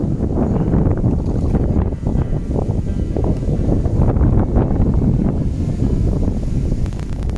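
Strong wind at a fishing lake buffets the microphone, giving a loud, continuous rushing roar with gusty surges throughout and no talking.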